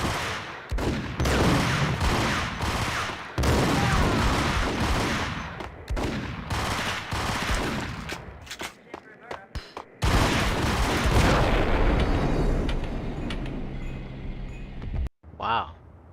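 Gunfire in the Max Payne video game: dense bursts of rapid shots and booming blasts, loud and sustained in waves, with voices heard through the shooting.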